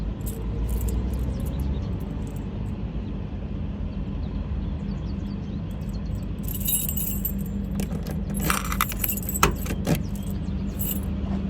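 A ring of round keys jangles and scrapes in the trunk lock of a 1963 Chevrolet Impala SS convertible, the metallic clinking clustering into a few close bursts over a steady outdoor background hum.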